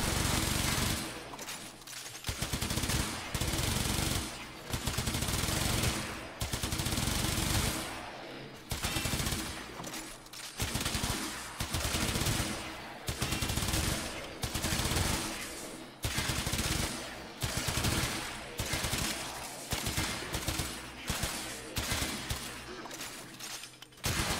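Sustained gunfire from a slow-firing gun in the Warframe video game, loud bursts of shots in repeated volleys with brief pauses between them throughout, no talking.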